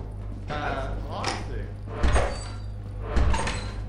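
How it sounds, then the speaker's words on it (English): Someone tries a locked door in a Minecraft game made to play like Lethal Company, giving three hollow thunks about a second apart, each a short knocking rattle, while players talk over a steady low hum. "Oh, another locked door."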